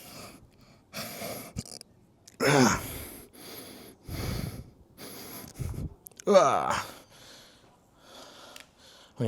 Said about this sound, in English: You're probably gonna hear me breathing